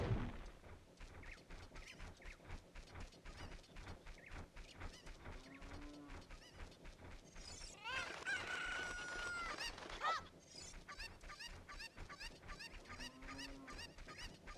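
Video-game chickens from Zelda: Ocarina of Time clucking and crowing in repeated short squawks, with a couple of longer crows rising above a busy backdrop of in-game music and effects.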